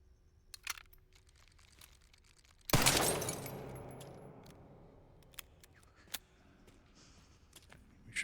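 A gunshot fires in the video game Resident Evil Requiem, a single sharp blast followed by a decaying tail, with faint clicks and interface ticks before and after in an otherwise quiet scene.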